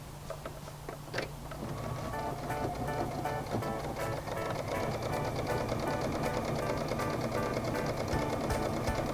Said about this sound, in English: Just stitching right on the edge to keep that seam allowance in place.